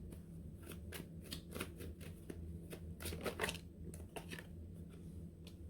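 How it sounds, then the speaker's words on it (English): Tarot cards are shuffled by hand in a quiet room, a rapid run of crisp riffling flutters and soft slaps, close and faint, ending with a few single cards being pulled from the deck. "let me pull a couple cards"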